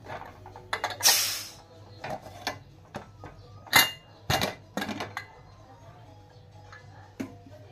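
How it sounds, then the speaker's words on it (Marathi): A pressure cooker holding cooked black-eyed pea curry being opened, with scattered metallic clicks, a grinding twist of the lid and clanks as it comes free, close and quiet between sounds. "आता आपण कुकर उघडूया।"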